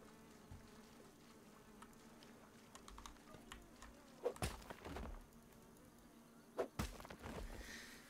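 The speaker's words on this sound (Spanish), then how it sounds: "Son como tontas las moscas." Flies buzz quietly and steadily in the garden survival game Grounded, with a few sharper clicks and impact bursts breaking through around the middle and later on.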